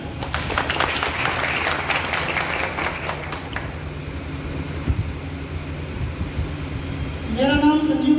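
Sustained crowd applause fills the first several seconds, then fades into a noisy room before a voice begins speaking near the end.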